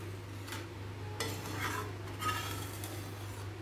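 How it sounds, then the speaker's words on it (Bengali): A spice mixture stirred with hot water in a pot on the stove: steady scraping and swishing of a spoon against the pot over a low constant hum, with a few brighter strokes. "দিয়ে ভালো করে এবার নাড়িয়ে দিচ্ছি যাতে মশলাটা জলের সঙ্গে খুব সুন্দর মিশে যায়।"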